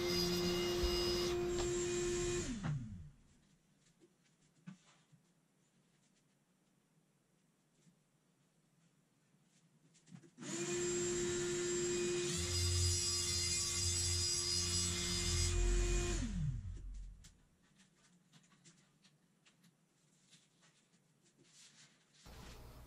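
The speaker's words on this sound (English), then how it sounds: "Again, a track saw is more than capable of doing this." Track saw cutting small laminate strips for table cabinet edges: two loud bursts of motor whine and cutting noise, each spinning down, separated by quiet.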